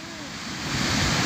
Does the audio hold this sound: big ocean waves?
yes